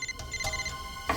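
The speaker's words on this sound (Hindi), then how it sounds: "यही बज रहा है सर। आशीष का फोन है।" A mobile phone rings from inside a closed drawer, its electronic ringtone repeating in short bursts across the clip with no talking over it.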